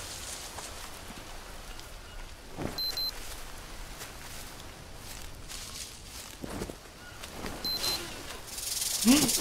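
A snake in the jungle survival game Green Hell gives short breathy hisses over a steady rain-like ambience, with footstep-like rustles and a louder burst near the end.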